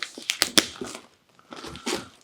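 Paper items being handled while unboxing vintage aquarium, bird and art pieces, giving close, crisp crinkling and rustling in several quick bursts, a short pause, then more crinkling.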